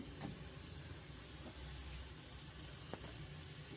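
Bread cubes deep-fry in hot oil with a faint, steady sizzling hiss and a few soft pops and crackles scattered through it.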